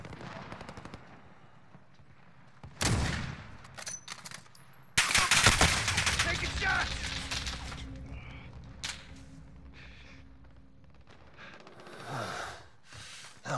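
Call of Duty Warzone gunfire in Verdansk: a few sharp bursts and single shots scattered across the span, with loud cracks near the start and a sustained clatter after, separated by quieter gaps of game ambience.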